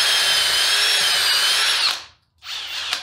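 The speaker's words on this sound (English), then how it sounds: "I'm gonna drill a very small pilot hole." A power drill bores a small pilot hole into a wooden 4x6 beam on a jaw horse, a loud close high whine for about two seconds, a brief stop, then a second short burst.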